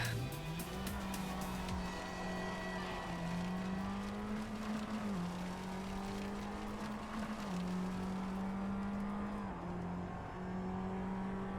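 A race car in Assetto Corsa runs on throttle with a loud, steady engine drone whose pitch wavers slightly through gear and speed changes, while faint tire noise runs underneath.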